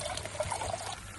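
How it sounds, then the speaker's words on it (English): Water is poured into a small brew cup to boil on a hike along the Pennine Way; a short, close, steady trickling splash. "let's get some water on the go."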